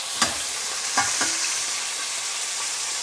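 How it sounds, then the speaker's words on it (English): A steak flipped in a hot pan gives a few soft thuds and scrapes over a steady, bright sizzle that continues alone once it settles. "I'm going to flip the steak"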